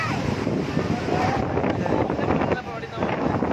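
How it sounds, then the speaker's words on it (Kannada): Strong wind buffets the microphone in a loud, continuous rumbling roar near rushing water by KRS, dipping briefly before surging back. "ಬರ್ತಾ ಇಲ್ಲ, ಗಾಳಿ ಹೊಡಿತಿರೋದು"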